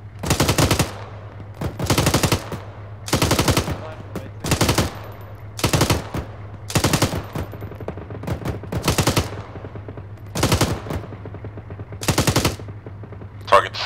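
Machine gun fire in the Arma 3 video game, with about ten loud sustained bursts spaced evenly, each lasting roughly half a second, over a low steady hum, with no talk between bursts.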